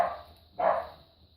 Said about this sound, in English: my dogs are out there playing, having fun